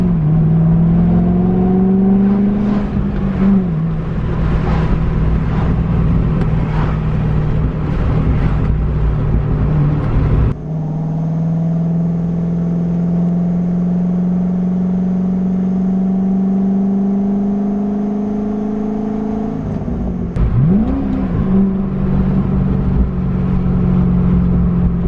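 A 2007 Corvette with a manual transmission accelerates hard through the gears, its engine note climbing, dropping at each shift and climbing again. It is loud and close inside the car, with no talk over it.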